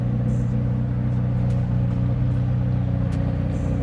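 A 2019 McLaren Senna MSO idling close by indoors in a showroom, its engine a steady, deep, throbbing rumble with a pulsing low-end burble and no revving, loud and continuous.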